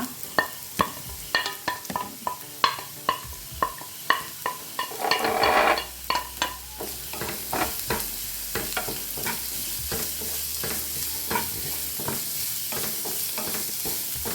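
Onions sautéing in a pan for a papad samosa filling, with a steady sizzle and repeated sharp stirring scrapes of a spoon against the pan, close and clear, with no talking.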